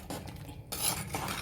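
Yam curry stirred in a pot with a spoon, a few soft scraping and clinking strokes against the vessel, fairly faint and close, with no talking.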